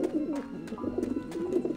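Pigeons coo on a rooftop in Grim Fandango Remastered, giving soft repeated throaty calls that carry on steadily and close, with no talking.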